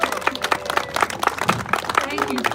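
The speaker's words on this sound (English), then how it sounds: "a big round of applause for Miss Patty Lyman" Crowd at an outdoor car rally for Trump at the Fairfax Government Center in Virginia applauds, individual claps standing out sharply as scattered voices and cheers mix in with nearby talk.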